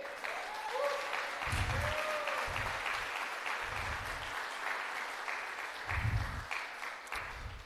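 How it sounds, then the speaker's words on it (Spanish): A church congregation applauds during a service, with sustained clapping that rises and falls throughout while voices are heard over it. "¿Por qué no le damos un fuerte aplauso al Señor?"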